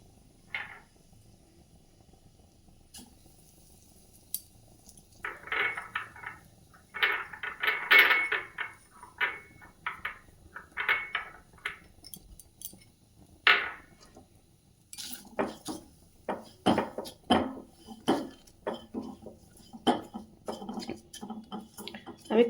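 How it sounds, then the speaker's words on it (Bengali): Semolina roasting in a pan with fennel seeds and bay leaf, stirred with a utensil that gives repeated light clinks and scrapes against the metal in irregular bursts, close and moderately loud. "আমি একটু সুজিটা একটু মানে ভেজে নিই"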